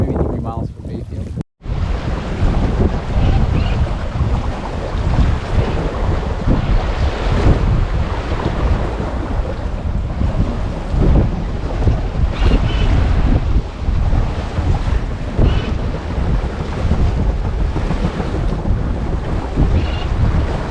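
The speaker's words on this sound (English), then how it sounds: "She's white capping out here on the lake." Steady roar of wind and whitecapped waves on Lake Huron heard from a heeled-over sailboat running about six knots out of Bayfield, loud and continuous with heavy wind buffeting on the microphone after a brief cut near the start.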